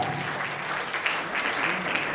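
An audience at a Hindi devotional song performance claps along, a dense wash of hand claps with faint rhythmic pulses, fairly loud and close throughout.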